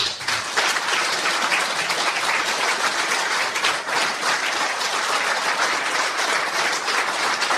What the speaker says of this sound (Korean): 먼저 우리 미주 총련 초대 회장을 역임하신 이도영 회장님 크게 박수 부탁드립니다.